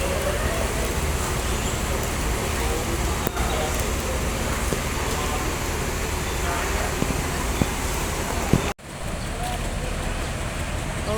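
Inside a moving Lorena intercity bus on the Palembang to Bogor route, a constant loud road rumble and engine drone fill the cabin, briefly cut by a sharp break near the end before the rumble resumes.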